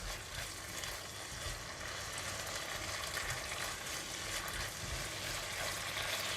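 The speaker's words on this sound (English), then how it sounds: "The choy sum stem will take longer time to cook, so I'm going to just give it a stir for about 1 to 2 minutes" Choy sum stems stir-frying in a wok with soy and oyster sauce give a steady, soft sizzle with faint stirring scrapes, continuous and fairly quiet, with no talk.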